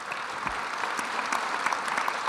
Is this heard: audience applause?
yes